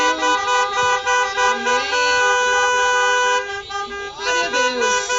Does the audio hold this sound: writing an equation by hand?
no